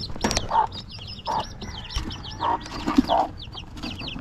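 A chicken clucks several times nearby, short throaty calls spaced out, with chirping birds in the background.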